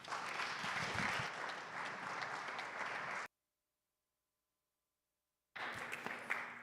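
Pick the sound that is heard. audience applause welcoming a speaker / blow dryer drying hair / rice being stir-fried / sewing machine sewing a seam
audience applause welcoming a speaker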